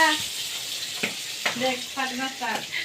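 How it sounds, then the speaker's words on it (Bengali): Fish fries in a pan of hot oil with a steady close crackling sizzle, while voices chatter and laugh over it. "দেখো কীভাবে মাছটা ভাজা হবে"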